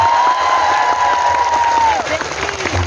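A crowd of fans at an Islamic religious gathering with a preacher claps steadily in a dense, continuous wash of applause, with a voice speaking over it and the clapping thinning slightly toward the end.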